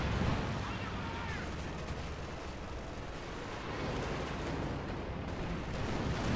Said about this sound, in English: There's the Caddy barrage as well.